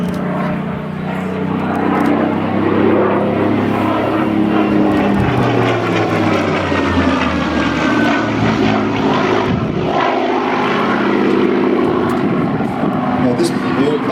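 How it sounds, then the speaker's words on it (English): A Supermarine Spitfire Mk XVI fighter flies at an airshow in Temora, New South Wales, its growly piston engine roaring loud and sustained, with a faint rising supercharger whistle threading through the noise. "It sounds a little bit more growly than a normal Spitfire, and if you listen carefully you can hear the whistle from the supercharger"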